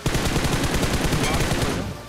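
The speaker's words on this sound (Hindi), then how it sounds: "बट मेरे को उधर साउंड आता है फायर का" Gunfire in the battle royale game BGMI, a rapid automatic burst of evenly spaced shots, loud and close, running nearly the whole time before tapering off.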